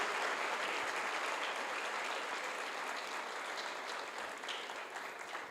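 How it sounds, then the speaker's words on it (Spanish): Steady, dense applause from a large church congregation fills the space during a service, holding strong before easing slightly toward the end. "Denle un aplauso al Señor por lo que Dios cuidó de su vida."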